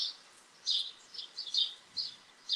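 High, thin bird chirps come in short bursts, several quick tweets spaced irregularly against near silence.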